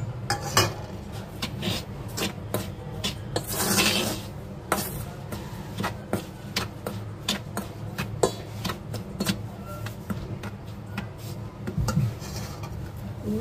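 Semolina and gram flour being mixed together in a bowl, heard as steady scraping and clinking of a spoon against the bowl with repeated sharp taps, close and continuous with no talk.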